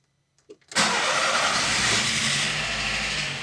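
Volkswagen Gol G4 car with a strange noise at idle: a few starter clicks, then the engine catches abruptly and settles into a loud, steady idle close by.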